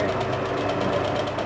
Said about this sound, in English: When you're sewing, regardless of the fact that I'm going really, really fast, slow and steady wins the race.